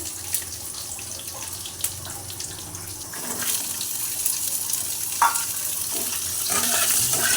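Flat beans frying in a pan with nigella seeds, dried and green chillies and whole garlic cloves. The hiss is soft and steady and builds slightly louder toward the end, with a few faint clinks and no talking.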